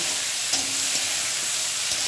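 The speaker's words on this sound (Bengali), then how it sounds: "দেখো আমি সবজিটাকে ভালো করে ভেজেছি" Vegetables, including stalks and yardlong beans, frying steadily in a pan for a Bengali vegetarian dish, a continuous soft hiss and sizzle with faint stirring taps, close and alone.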